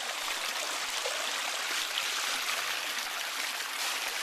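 Irrigation water runs steadily into a garden ditch in a farming valley, a soft, continuous outdoor rush with no talk.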